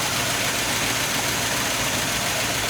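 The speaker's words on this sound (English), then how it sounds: "Okay, so we have a bit of an exhaust leak" The idling engine of an old 1989 Sea Ray yacht, which has a leaking exhaust muffler, gives a steady, loud, rough rumble with continuous noisy hiss and no break.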